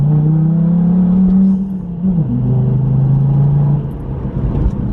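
Loud, deep idling rumble of a remapped 220 bhp diesel Volvo C30 engine close by, dipping briefly in pitch before settling into a steady low drone.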